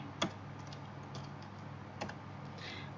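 A command being typed on a computer keyboard, heard as a few sparse, quiet clicks, with one sharper keystroke near the start and another around two seconds, over a steady low room hum.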